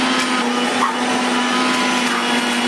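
A kitchen mixer grinder (mixie) runs steadily throughout, a loud continuous motor whir with a strong hum, used at home while preparing misal pav with ginger and garlic.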